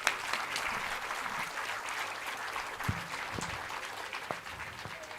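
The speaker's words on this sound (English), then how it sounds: "I kindly request you all to join us in extending a warm welcome with a big round of applause." An audience at the Pelecanus 2025 event in Mother Theresa Hall applauds to welcome dignitaries, with moderate, steady hand-clapping from a mid-sized crowd and a few sharper thumps scattered through it.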